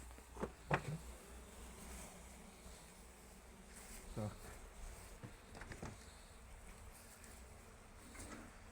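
Honeybees buzzing around an open hive of a small, weak colony as the beekeeper works it with smoke, a faint continuous hum with occasional knocks and handling noises nearby.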